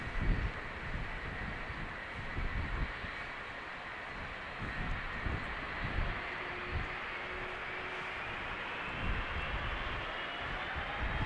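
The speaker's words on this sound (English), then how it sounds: "757-300, outbound to Reykjavik, Icelandair flight 501, going back home to Iceland" An Icelandair Boeing 757-300 departs Amsterdam Schiphol toward Reykjavik, its engines a moderate, sustained roar with a faint rising whine and pulsing low rumble, fairly distant.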